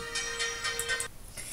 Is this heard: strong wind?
no